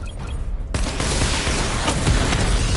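A missile barrage fires in Batman: Arkham Knight, a sudden loud broadband blast at about 0.7 s that swells into a dense, sustained roar of launches and explosions lasting the rest of the moment.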